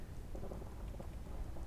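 Quiet steady rainfall in Skyrim, a soft even hiss of drops with a faint low rumble of weather beneath, heard alone without voices.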